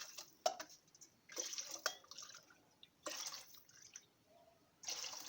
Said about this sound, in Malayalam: നമ്മൾ 3 കപ്പ് അരിക്ക് 6 കപ്പ് വെള്ളമാണ് ഒഴിച്ചു കൊടുക്കുന്നത്